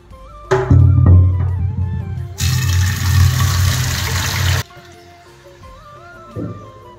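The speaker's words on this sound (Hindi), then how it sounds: "उसके लिए पहले गर्म पानी बैठाना पड़ेगा। गर्म पानी इसमें बैठा देता हूँ।" Water running from a tap into a pot to heat for scalding and plucking a bird in a home kitchen in Arunachal Pradesh, a loud steady gush that stops abruptly, with clanks and handling noises around it.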